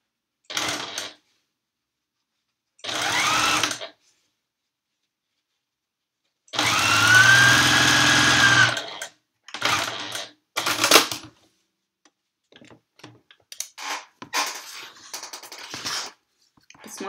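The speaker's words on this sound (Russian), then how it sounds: "Я начинаю шить как обычно." Sewing machine stitching binding onto a textile postcard in a patchwork workshop, running in several short bursts of motor whir separated by pauses, with one longer steady run in the middle.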